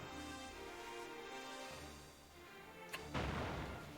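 Cannon fire striking the Archdemon in the strategy game Langrisser: a sharp crack near three seconds, then a heavy booming impact with noisy rumble over steady game music.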